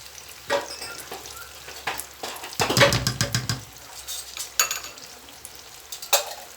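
Spiced minced meat filling sizzles loudly as it fries in a pan, with repeated scraping stir strokes and a burst of intense sizzle partway through; no voices.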